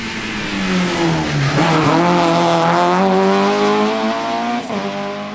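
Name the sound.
Peugeot 206 rally car racing on a stage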